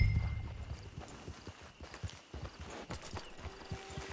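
Horse hooves clip-clop at a walking pace in Red Dead Redemption 2, an even run of hollow clopping steps near and moderately loud, with faint game ambience beneath.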